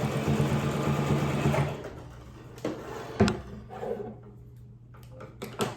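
A sewing machine runs in a quick, humming burst as it stitches fabric, then stops, followed by scattered light clicks and knocks of handling nearby.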